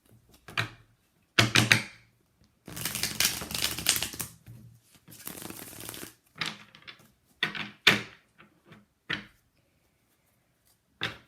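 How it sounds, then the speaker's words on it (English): Tarot cards shuffled by hand in several bursts of riffling and shuffling, close and fairly quiet, separated by short pauses, with no talking. "Shuffle one more time."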